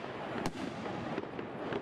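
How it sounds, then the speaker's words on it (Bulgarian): New Year fireworks burst over a town square in Vidin, a dense continuous crackle and rumble with sharp individual bangs, loud and steady, heard from the crowd's position with no talking. "Наблюдавате на живо зарята на община Видин"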